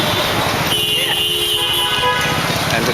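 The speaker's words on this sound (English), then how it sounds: "Seems like we're stuck in traffic." Busy street traffic in Dhaka, with a car horn blaring in a sustained honk over a constant roar of engines and road noise, and people talking amid the din.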